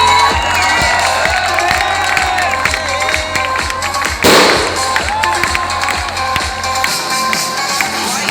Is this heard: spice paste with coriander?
no